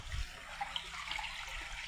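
A small village stream where people are catching fish with a sari gives a faint, steady trickle and flow of water throughout, with no voices.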